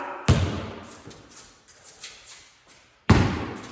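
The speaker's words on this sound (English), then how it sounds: "Float dribble with the left hand, getting into a quick stop" A basketball dribbled on a court during a quick-stop drill: two heavy, close bounces about three seconds apart, with softer taps and shuffling between them.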